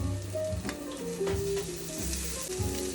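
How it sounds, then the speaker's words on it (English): Mushrooms sizzle and crackle steadily in a hot pan while being stirred, with a spatula scraping and clinking against the pan at intervals, close and fairly loud, with no talking. "I'm gonna stir these mushrooms because I don't want them to burn"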